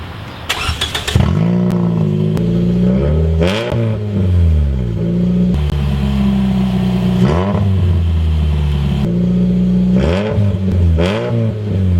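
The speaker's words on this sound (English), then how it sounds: "So now my exhaust sounds so loud." A car with its exhaust broken where the catalytic converter pipe meets the muffler revs repeatedly, each blip swelling into a loud, raspy, racecar-like roar before dropping back to a rough idle.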